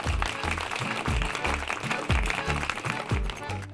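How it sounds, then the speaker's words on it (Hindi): Loud, dense applause at a staged competition event, a continuous broad wash of clapping layered over rhythmic music with a heavy beat. "जोरदार तालियां।"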